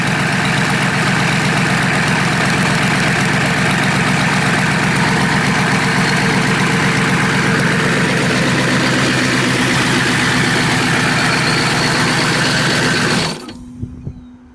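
A freshly rebuilt Chevy/GMC 6.5L turbo diesel engine running on diesel idles loud and close with a fast, even clattering rhythm, then shuts off and winds down near the end.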